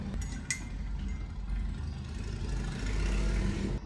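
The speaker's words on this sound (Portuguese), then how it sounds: "Pausa pra moto." A motor vehicle, presumably a motorcycle, passes nearby with a steady engine drone and whir that holds constant and slightly builds toward the end, with no voices over it.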